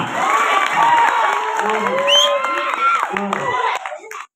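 A lively audience at a Kannada village comedy show claps, cheers and shouts together, close and loud, with excited voices and children's shouts rising over the clapping before it cuts off.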